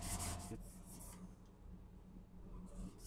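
Primed 3D printed parts are sanded by hand, giving soft rasping strokes in a few short bursts, close and quiet, separated by brief pauses.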